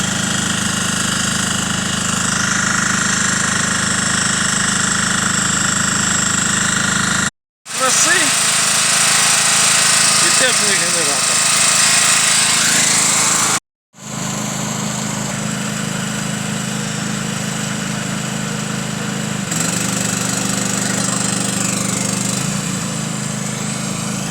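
Petrol generators running outdoors, a loud continuous engine drone with a steady buzzing hum throughout, broken by two brief cuts, with faint background voices.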